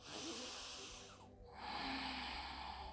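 A deep, slow breath drawn in during a full-body yoga session, a soft airy rush that swells, pauses briefly and then fills again, close and quiet over a faint background.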